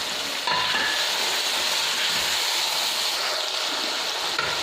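Mutton mince sizzling with fried onions in a pan, a continuous dense hiss and crackle at steady level with occasional stirring scrapes, no voices.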